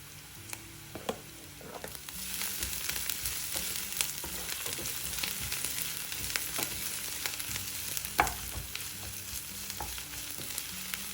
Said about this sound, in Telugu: ఉల్లిపాయ వేగుతున్నప్పుడు 1/2 టీ స్పూన్ అల్లం వెల్లుల్లి పేస్ట్ వేసుకోండి.